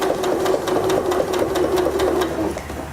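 A Janome Skyline S5 sewing machine sews a straight stitch with a twin needle, giving a fast, even run of mechanical pulses that holds steady for a few seconds before it eases off, with no voices.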